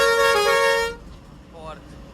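Modified horn on a decorated GSRTC bus, one loud sustained musical blast cut off after about a second, followed by a faint falling tone.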